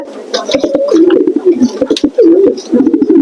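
Pigeons in a loft coo loudly and close up, with repeated throaty rolling calls one after another and sharp flutters and clicks between them.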